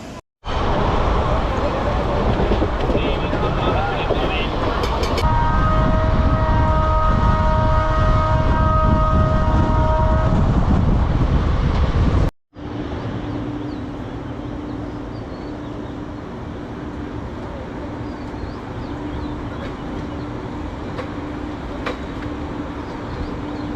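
A train pulls out of Sheoraphuli station, its loud rumble and rattle joined by a long, steady horn-like tone in the first half; after a brief cut the rolling noise continues more evenly.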